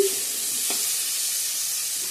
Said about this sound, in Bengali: এদিকে মিষ্টি কুমড়ার ভাজাটা আমি বসে দিয়ে দিচ্ছি।